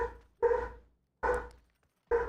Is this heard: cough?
no